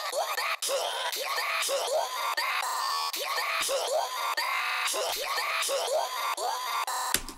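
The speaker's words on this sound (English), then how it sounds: "I pitch shifted it way up to sound like a little kid screaming." Repeated high, pitch-shifted screams made for a Friday Night Funkin mod sound like a small child's shrieks, in a fast series of sharp bursts that run almost back to back for several seconds, loud and dense.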